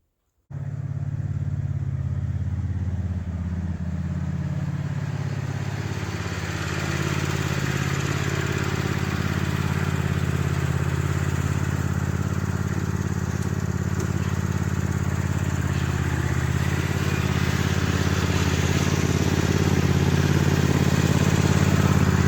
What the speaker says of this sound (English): I'll just leave the red tractor to run 5-10 minutes, get it warmed up